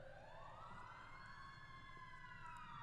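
Emergency vehicle sirens wail steadily as they pass on a street, a loud sweeping tone with rumbling traffic beneath, continuous throughout with no talking.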